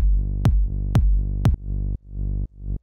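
A harmonic synth tone is rhythmically gated by a shaped volume envelope, giving a pumping effect: three sharp percussive hits, then a swelling, ducking pattern that cuts off and ramps back up roughly every half second, with no voices.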